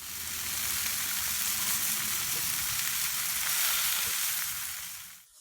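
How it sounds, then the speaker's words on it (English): Seasoned lamb, spaced apart on a Blackstone griddle at medium heat with flour tortillas laid over it, sizzles in a steady, loud, close hiss that fades sharply at the end, with no talking. "Put down the seasoned lamb, kind of spaced apart a little bit."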